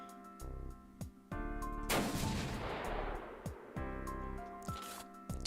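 Gun turrets firing in the video game Beyond Citadel: repeated sharp shots over a humming tonal drone, then a long loud blast of noise in the middle before the rhythmic firing resumes.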